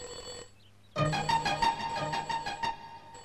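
Old-style telephone ringing indoors in a Telugu comedy film scene, a loud repeated electronic trill that starts after a brief quiet stretch and continues steadily to the end, alone with no talking.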